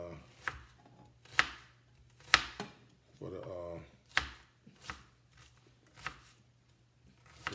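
Onions being chopped on a board for dirty rice, a series of sharp knife strikes at an uneven pace with a brief scraping shuffle in the middle, close and clear under a low steady hum.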